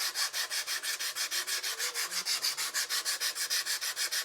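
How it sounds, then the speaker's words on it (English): Rhythmic sanding of the edge of a Depron foam model aircraft tail cone, close and loud, with about twenty even back-and-forth strokes in steady succession and no voices. "So Depron sand's real easy."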